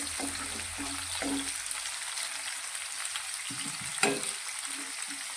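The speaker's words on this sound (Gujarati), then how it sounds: "ડુંગળીને પણ આપણે થોડી સાતળી લઈશું।" Chopped onion sautés in hot oil in a pan for okra curry, a soft continuous sizzle and crackle with occasional stirring scrapes and a sharper clink near the end, fairly quiet and close.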